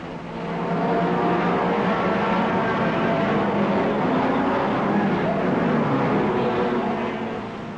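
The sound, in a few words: racing cars at 1961 Le Mans 24 Hours start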